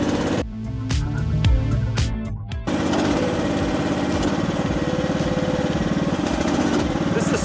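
An AGT WH12R Chinese mini excavator's engine runs at lower RPM, a steady close mechanical drone with a rhythmic chug; a brief louder burst early on before it settles into an even hum.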